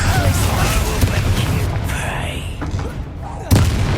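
Confringo blasting spell in Hogwarts Legacy, a burst of explosive booms amid combat noise, with a loud blast near the end; a voice speaks over the action.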